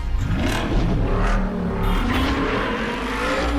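Aston Martin engine revving in a James Bond video game, a steady loud roar that swells and eases, with rising pitch sweeps as it accelerates, continuous throughout with no talk.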